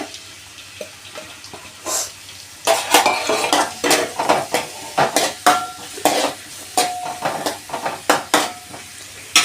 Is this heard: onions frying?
yes